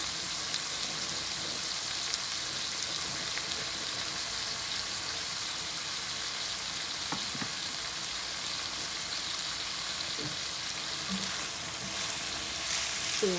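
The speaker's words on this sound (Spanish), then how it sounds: "Y así lo vamos a dejar que se dore, que se cosa bien el bistec." Beef steak with a squeeze of lime sizzles steadily in a hot pan, a continuous dense crackle with a few faint utensil taps and no talk.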